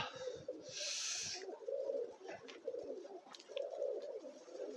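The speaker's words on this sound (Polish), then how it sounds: "Są ptaszki, coś tam latają." Pigeons cooing outdoors on a frosty winter day, soft repeated low coos in an uneven rhythm, fairly close but quiet, with a brief rushing noise early on.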